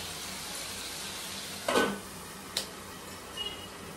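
Food fries in oil under a lid with a steady, even hiss, and a soft clank and a light tap sound partway through.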